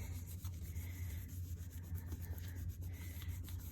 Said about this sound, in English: I'm going to fold my page over. And again, we're going to rub that pretty good.